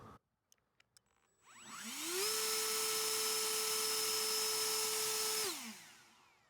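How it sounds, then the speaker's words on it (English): Ego 56V battery backpack leaf blower on turbo setting, a few small clicks then the motor spins up into a loud, steady rushing whine for about three seconds before winding down. "And here's the turbo."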